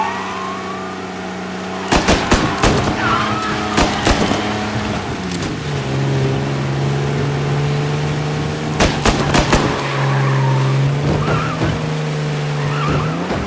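A car engine in the video game Mafia Definitive Edition drones steadily throughout, shifting pitch as it drives, while sharp clusters of loud cracks and skidding bursts break in near the start and again later, with no talking.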